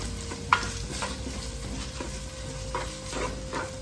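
Sliced onions for a fish curry fry in a pan with a soft, constant sizzle, broken by occasional clicks and scrapes of stirring, no voices.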